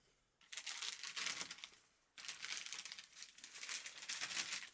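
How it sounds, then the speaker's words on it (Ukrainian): Plastic safe bag crinkling and rustling as banknotes are packed into it during a police search, two bursts of close crackling with a short pause between. "кошти будуть поміщені до сейф пакету"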